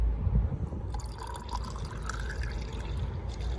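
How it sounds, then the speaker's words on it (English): Coolant flush glugs and trickles steadily as it is poured into the radiator of a BMW E46 330d, a continuous close liquid pouring sound with no voices. "So when that's broken, we can pour it in."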